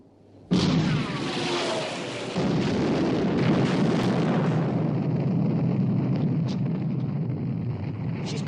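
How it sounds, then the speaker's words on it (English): Heavy naval gunfire in a WWII battleship film scene around the Bismarck: a sudden loud boom opens, then a sustained roaring, rumbling barrage of artillery and explosions that stays dense and loud throughout. "Open fire, main armament."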